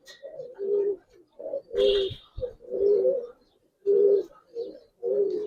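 A pair of green pigeons, male and female, cooing in repeated short, low, bubbling phrases at close range, with brief pauses between calls and a short bit of human voice in the middle.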